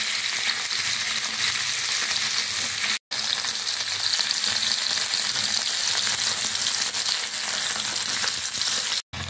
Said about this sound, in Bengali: পনিরগুলোকে আমি এপিট ওপিট করে লাল লাল করে ভেজে নেব।